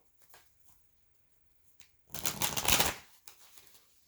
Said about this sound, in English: Let me shuffle really quick